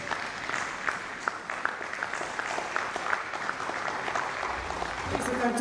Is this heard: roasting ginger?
no